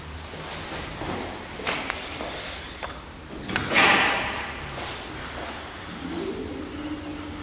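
A 1912 Titan traction elevator, modernised by KONE, runs in the Post Central in Copenhagen, a lift without inner doors, giving scattered clanks, knocks and thumps over a low mechanical hum, with one louder clattering burst midway.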